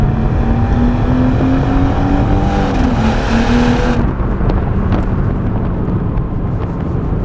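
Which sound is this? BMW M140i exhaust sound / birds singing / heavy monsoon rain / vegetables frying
BMW M140i exhaust sound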